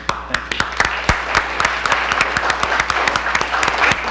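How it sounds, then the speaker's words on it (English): A small group applauds at a county board of supervisors meeting, with scattered, uneven hand claps ringing out in a room for a few seconds. "they deserve our respect and applause too"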